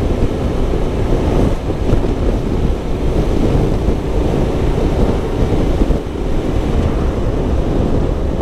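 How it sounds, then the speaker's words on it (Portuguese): Strong, steady wind roars across the microphone of a Honda NC750X motorcycle rider on the road near Santa Maria do Pará, a dense continuous rush with occasional gusty swells and no talk. "vento hoje tá forte"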